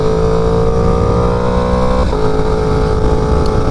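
A 2016 Yamaha R1 superbike is ridden, its engine droning loud and close at a steady pitch with a slight shift partway through.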